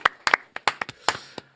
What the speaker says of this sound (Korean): 이광수 소장님 박수로 모시겠습니다